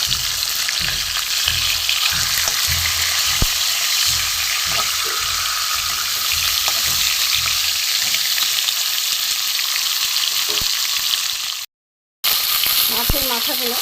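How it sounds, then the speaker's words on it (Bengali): Fish heads of three kinds sizzle steadily in hot oil in a pan, a loud continuous frying hiss with occasional stirring clatter, broken by a brief silent gap near the end. "মাছের মাথাগুলো ভাজা হয়ে গেছে, আমি এবার তুলে নেব।"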